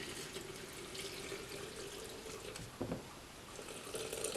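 Water is poured from one side and then the other while making and feeding a sourdough starter, a soft continuous splashing trickle, faint and close, with a brief louder gurgle partway through and no voices.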